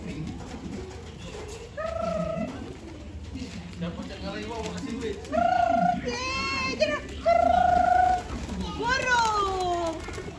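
Pigeons coo in soft, repeated throaty calls near the listener while being fed by children, whose voices and chatter mingle throughout.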